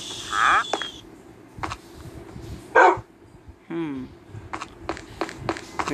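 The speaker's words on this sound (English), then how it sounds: "Good dog." A dog barking outdoors, a few short sharp barks spread across the stretch, loud and close, with brief voices and noises between them.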